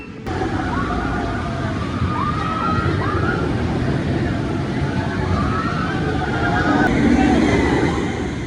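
Incredible Hulk roller coaster at Islands of Adventure, Universal: a steady, loud roar of the ride running throughout, with rising whistling tones and rumbling mixed in.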